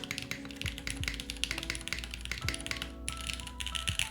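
A mechanical keyboard with PBT keycaps is typed on in a rapid, continuous clatter of close, crisp key clicks, heard alone without talk.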